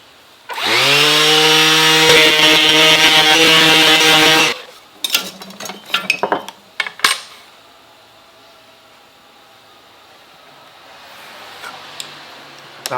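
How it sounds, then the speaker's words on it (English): A battery-powered Makita orbital sander with 120-grit paper works reclaimed wooden stage floorboards, giving a loud, steady motor whine for about four seconds before cutting off into scattered clicks and handling clatter. "A Makita orbital sander."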